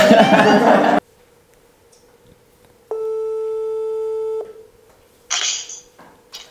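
A single telephone ringing tone sounds steadily for about a second and a half while a call is placed, with a voice talking briefly before it and a faint noise burst after.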